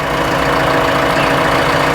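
A JCB backhoe loader's diesel engine idles close by, a steady, loud low rumble with an even throbbing pulse and no other sounds.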